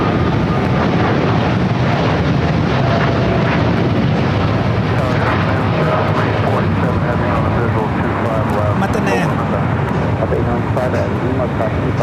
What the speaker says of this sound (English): Japan Airlines, the flight heading back to Tokyo Narita. 787-9 Dreamliner, next takeoff.